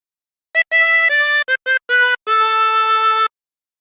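A 20-hole tremolo harmonica plays a short phrase of the sea shanty Wellerman, several quick wavering reed notes followed by one long held note, clear and close with silence around it.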